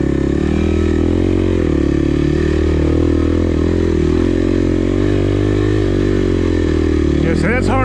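A Kawasaki KLX 300R dirt bike on a trail, its engine chugging loud and close with steady low throbbing and a rising rev near the end, while a rider talks over it.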